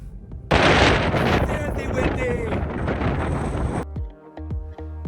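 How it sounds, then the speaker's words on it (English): Strong wind at Saxhol crater on Iceland's Snæfellsnes Peninsula roars loudly into the microphone for several seconds, then cuts out abruptly, leaving quieter gusts and thumps. "I would take a little bit of cloud and give away some of this wind because it's really, really strong."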